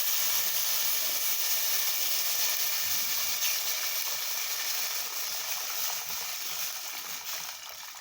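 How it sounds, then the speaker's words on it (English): Boiling water poured onto chicken in a pot for Jamaican chicken soup, a steady broad hiss and rush of liquid that stays loud throughout and eases off slightly at the end. "I'm just adding my boiling water to my chicken"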